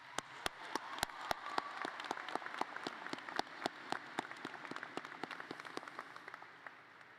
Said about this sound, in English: So please give a big round of applause to the parents, teachers, faculty, and friends of our graduating class.